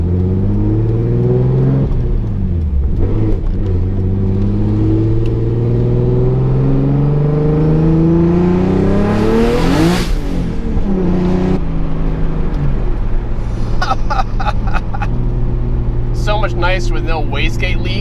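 Nissan S14 with an RB26/30 engine pulls hard on a night drive, its loud engine note rising steadily to a peak around mid-run, then easing off and settling; faint clicks and chatter come near the end.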